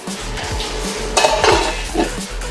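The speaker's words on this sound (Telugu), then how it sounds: "ఇప్పుడు మళ్ళీ మూత పెట్టేద్దాం." A metal lid set back onto a cooking pan of beans fry with grated coconut, giving a few light clanks and a scrape amid soft kitchen clatter, fairly close and with no talking.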